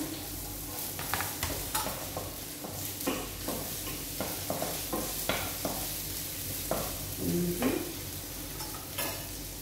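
Onions hit a hot pan for beef tinola with mixed vegetables and sizzle steadily while being stirred. Soft scraping and clinks of a utensil against the pan recur throughout, close and fairly quiet.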